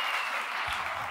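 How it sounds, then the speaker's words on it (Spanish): Applause from a live talk-show audience after a call to cheer two guests, a steady wash of clapping throughout the short moment, with a faint voice at the low end near the finish. "Fuerte el aplauso para ellos dos."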